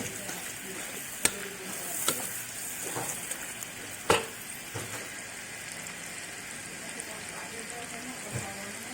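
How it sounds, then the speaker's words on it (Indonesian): Shallots fry in oil, sizzling steadily in a pan with a soft crackling hiss, punctuated by a few sharp clicks and stirring knocks. "Bawang saya goreng dulu karena nggak saya campur ya"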